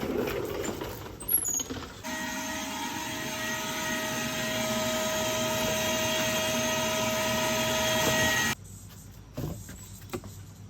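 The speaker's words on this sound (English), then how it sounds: "even though my shop vac is subpar" A subpar shop vac used for cleaning up after quail on a small homestead starts abruptly, runs as a steady whining drone for several seconds, then cuts off.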